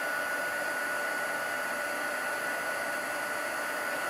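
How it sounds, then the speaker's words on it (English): A heat tool blows steadily on embossing powder atop a birthday card, a constant loud hissing whoosh with a thin whine, close and unbroken from start to finish. "you just want to heat that until it melts the powder and it becomes shiny"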